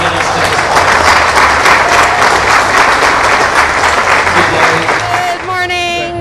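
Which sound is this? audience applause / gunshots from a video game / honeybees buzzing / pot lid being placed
audience applause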